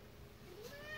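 A pet cat gives a single drawn-out meow indoors, faint and rising at the end.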